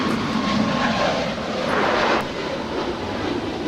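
A Spirit Airlines airliner on its takeoff roll from runway 25 right at Los Angeles International Airport sends out a loud, sustained jet roar that swells slightly and then eases back a little.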